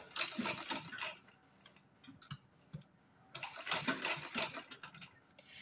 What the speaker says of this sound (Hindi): ये देखिए अब हम सिलाई लगाएंगे